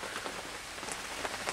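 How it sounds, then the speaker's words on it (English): Heavy rain pours steadily outside a shack, a dense, continuous hiss of drops drumming on surfaces, with no pauses and no voices. "It's not raining right now, it's pouring"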